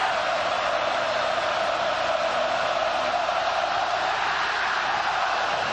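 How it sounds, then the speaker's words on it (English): A frenzied football stadium crowd at the 2003 Oklahoma at Alabama college game roars steadily and loudly, a constant wall of cheering and yelling that never drops for the full length. "this crowd is back to frenzy mode"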